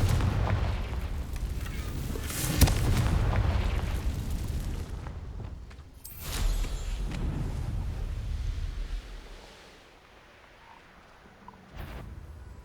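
Confringo explosive spell cast in the video game Hogwarts Legacy, a deep rumbling blast that rolls and swells, then a second boom around the middle, fading to a quiet tail with a small late burst, no speech.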